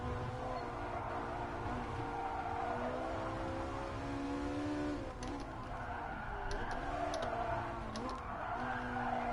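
Race car in Gran Turismo Sport braking hard, with a steady engine drone and a long tyre skid squeal over it, continuous and fairly loud for several seconds.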